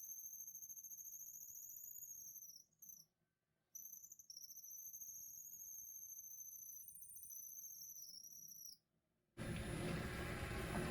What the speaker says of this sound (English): It does produce a high-pitched squeal once in a while, dry blank